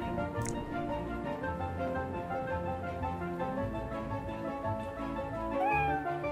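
A cat meows in the video game Rise of the Third Power, a few faint mews over steady game music and background ambience.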